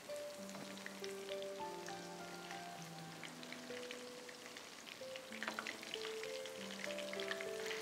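Apollo fish pieces frying in a pan of hot oil, a steady soft sizzle with scattered crackles and pops running throughout, moderately quiet and close, with no voices over it.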